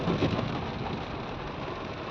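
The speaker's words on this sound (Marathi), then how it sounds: "पाऊस पाऊस खूप चालू आहे" Steady heavy rain hisses continuously, a dense even wash of noise with no voices.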